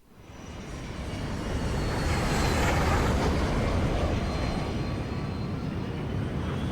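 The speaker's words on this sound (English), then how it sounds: "you open the door and the jet starts to crash" A jet plane goes down in the video game Resident Evil 5 with a loud, sustained roar of rushing engine and wind noise that swells over the first seconds and then stays dense and steady, with no talking.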